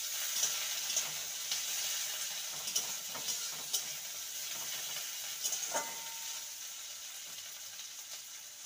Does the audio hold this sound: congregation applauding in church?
no